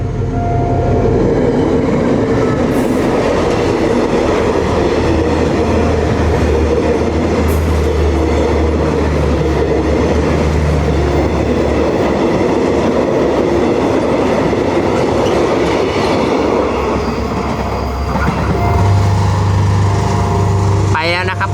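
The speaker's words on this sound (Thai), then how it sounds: "ก็รถไฟก็จะมาแล้วนะครับ" A Thai railway train passes at Thung Song station in Nakhon Si Thammarat, its loud, steady rumble and rolling wagon noise running the whole time, with a horn-like tone near the end.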